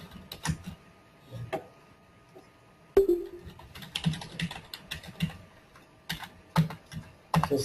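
Code is typed on a computer keyboard: sparse, uneven key taps and short clusters of clicks sound close by, with quiet gaps between them in an otherwise still room.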